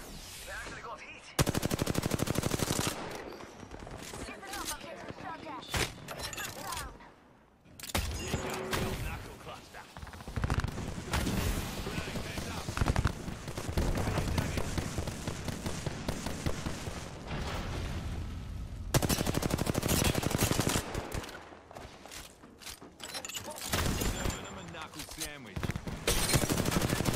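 Rapid gunfire from players shooting in a game arena match, dense bursts and sustained volleys close and loud nearly throughout, with brief lulls and a voice talking over parts of it.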